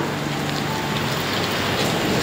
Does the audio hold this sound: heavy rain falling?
yes